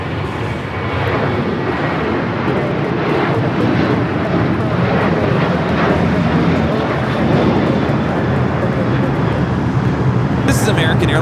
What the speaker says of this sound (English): This is American Airlines 814 taking off to Pittsburgh on the 737-800.